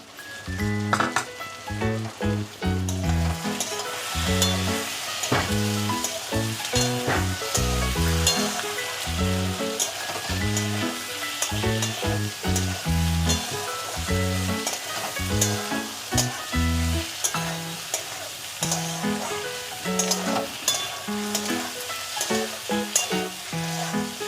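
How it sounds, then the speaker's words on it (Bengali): Potatoes frying in a pan for chickpea ghugni, with spices about to go in, give a steady close sizzle under repeated scraping and stirring strokes in a busy, regular rhythm throughout. "এটা আলুটা ভাজা হলেই আমি এখন মশলাটা দিয়ে এটা সুন্দর করে কষিয়ে নেব"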